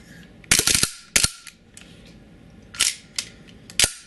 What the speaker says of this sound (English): Now I'll be shooting some full autos and let you see how it looks.